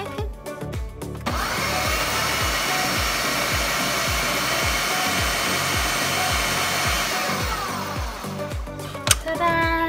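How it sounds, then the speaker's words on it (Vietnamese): A blender whirs loudly as it blends eggs for bún riêu, Vietnamese crab noodle soup: a steady motor roar starts after a brief clatter, carries a low rhythmic churning, then cuts off near the end. "xay vài vòng cho nó đều thôi"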